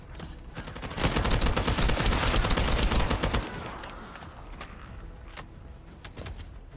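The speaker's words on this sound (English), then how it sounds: "Look, we got a machine gun now." Sustained machine gun fire in The First Descendant shooter game, a dense rapid burst lasting a couple of seconds, loud and close, then tapering into scattered quieter shots and mechanical clatter.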